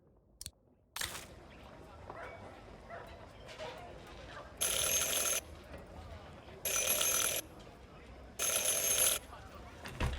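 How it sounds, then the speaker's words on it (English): Doorbell in the video game Syberia: The World Before, ringing three times in separate bright bursts over quiet ambient game sound. "Ring 3 times for urgent matters."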